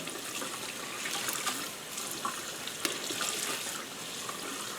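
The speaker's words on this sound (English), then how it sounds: "I'll start squeezing this here just to try to get some more of the dye out" Water running and splashing as tie-dyed fabric is squeezed and rinsed under a tap, a steady close trickle and gush with small bursts of spattering.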